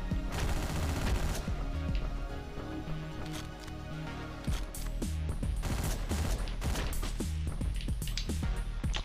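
Rapid bursts of gunfire from a gun in the top-down action game Hotline Miami, loud and relentless, with dense volleys of shots and impact crashes packed over a driving soundtrack, no talk.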